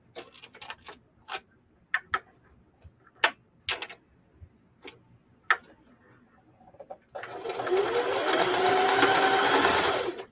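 A sewing machine runs a zigzag stitch on stretchy sock fabric, steady and close for the last three seconds, after scattered clicks and taps while the work is set up.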